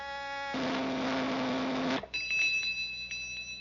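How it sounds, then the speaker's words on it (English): A toy flavor-meter machine rings its bell with a steady buzzing ring that lasts about a second and a half, then falls to a faint high tone with a few small clicks. "The better it tastes, the louder it'll ring the bell."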